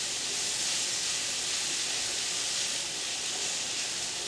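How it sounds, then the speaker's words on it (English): Steady sizzling and hissing from prawns stir-frying in a hot pan, a continuous bright crackle with no pauses. "we're going to be stir frying these for 2 or 3 minutes"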